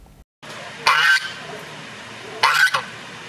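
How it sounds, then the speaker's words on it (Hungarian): Geese at a goose festival give two loud, harsh honking bursts about a second and a half apart, close by over a low background murmur of the outdoor gathering. "Újra libák gágogásától volt hangos az érmelléki szalacs"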